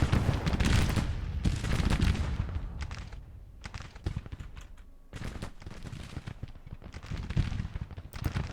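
Musket and artillery fire crash through a Civil War infantry charge in the Grand Tactician strategy game, dense overlapping volleys and booms rolling continuously and loudly with only brief lulls.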